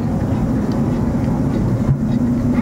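Steady rumbling of a small toy train rolling along in Peshwe Park, a continuous low drone throughout with no clear voices.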